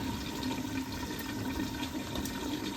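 Water is poured into a cooking pot set up to boil mutton for a village feast, making a steady, continuous rushing splash at close range with no voices.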